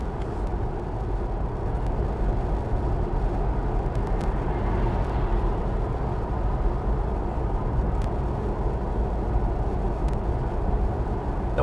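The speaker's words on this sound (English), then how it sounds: "That was a BMW 6 Series." A BMW 6 Series car passes on a road, heard as steady broadband traffic rumble and tire noise that holds throughout at a fairly constant level, with no voices.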